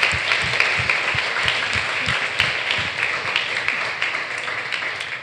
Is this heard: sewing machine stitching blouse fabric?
no